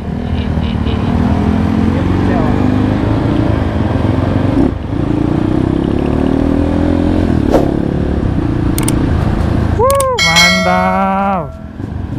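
A Kawasaki KLX motorcycle engine bored to 248 cc revs and roars close by, rising and falling in pitch, with a high squealing tone near the end.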